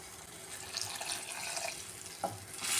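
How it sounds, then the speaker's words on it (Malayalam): Water poured into a pan of Kerala-style onion theeyal curry with roasted coconut paste, a steady close splashing and running-water wash heard alone, with a short louder splash near the end. "ഇതിലേക്ക് കുറച്ച് വെള്ളം കൂടെ ചേർത്ത് കൊടുക്കുകയാണ്."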